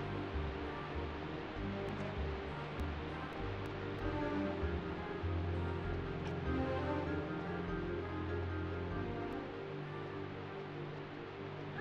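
Constant rushing roar of a jungle waterfall in the Tomb Raider 3 jungle level, a steady broad wash of water noise with faint clicks and tones from the game over it, no talking.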